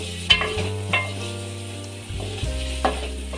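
Pieces of egg frying in a pan for egg biryani, making a steady close sizzle with a few sharp utensil taps against the pan, no speech.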